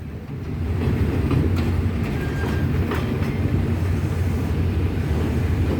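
Passenger train 283 with sleeper cars and a special chartered coach pulls out of Bangkok station, its steady rumble and wheel noise rising in the first half-second and then holding loud and close to the end.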